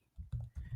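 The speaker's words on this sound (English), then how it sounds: "the first user I'm going to type in, Robert Downey" Keystrokes on a computer keyboard while entering a user's details into a point-of-sale system form, three quick bursts of close, clattering taps with short pauses between.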